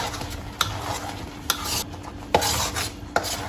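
Malay rempah spice paste fries in oil while a utensil stirs it, giving a steady soft sizzle broken by sharp scraping clinks against the pan roughly every second.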